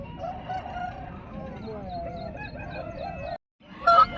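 A rooster at a hen market in Nallapadu, Guntur, gives a drawn-out, strained call amid clucking fowl nearby, with a brief silence and then more bird noise at the end.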